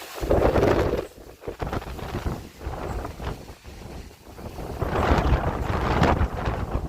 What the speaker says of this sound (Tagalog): Oh my god, kakatakot yung hangin.